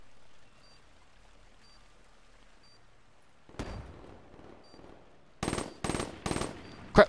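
Call of Duty: Black Ops 3 gunfire: a quiet stretch, then a faint burst followed by three sharp, loud rapid-fire bursts and a final single crack near the end.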